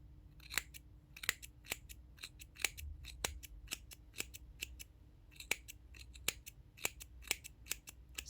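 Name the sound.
trimming a yarn pompom with scissors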